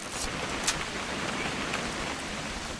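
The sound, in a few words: rain in the video game What Remains of Edith Finch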